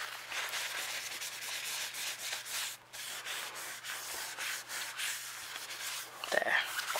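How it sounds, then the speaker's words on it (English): A paper towel buffs across stamped embossing ink on card, making close, brisk rubbing strokes in a quick repeated rhythm, with a slight rustle near the end. "so just get a paper towel and buff over the top"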